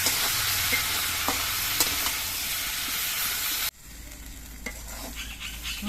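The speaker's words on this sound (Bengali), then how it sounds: "এবার সব কিছু দিয়ে নেড়ে চেড়ে মিশিয়ে নিয়ে কিছুক্ষণ কষিয়ে নিতে হবে" Spiced drumstick (moringa) pieces and potatoes are stirred and sautéed in a pan, giving a steady, close sizzle with scraping stir strokes; partway through the frying hiss drops quieter as cooking continues.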